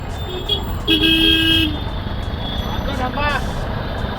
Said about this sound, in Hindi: जो भी आ रहा है बीच में दबाया जा रहा है हॉर्न, दबाया जा रहा है हॉर्न